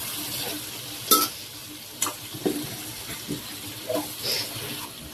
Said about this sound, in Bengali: তো মাথার মাংসটাকে ভালোভাবে কষিয়ে নেব।